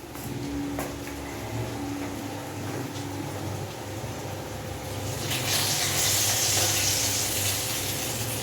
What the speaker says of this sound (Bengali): সঞ্জয় বললো একটু আলু ভাজাটা দেখো